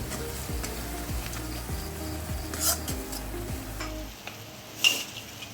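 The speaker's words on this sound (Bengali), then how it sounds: "তারপর সব মশলা একসঙ্গে ভালো করে মেশাতে থাকবো" Ground coriander, cumin and Kashmiri red chilli powder stirred and fried together in a pan for a mutton curry, giving a steady close sizzle broken by repeated scraping strokes of a spoon against the pan.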